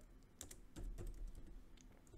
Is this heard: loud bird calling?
no